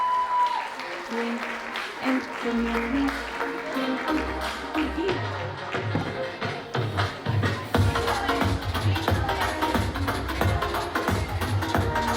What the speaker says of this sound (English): So let's give a round of applause to Sharvin Graywall and Mandy Sandhu for everything they have done.